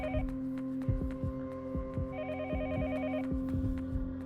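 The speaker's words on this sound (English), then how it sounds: "where's the phone that I'm hearing?" A telephone ringing in the horror game Yomawari: Night Alone: a repeated electronic ring in two bursts, sounding steadily over a low hum and soft rhythmic thuds, with no voices.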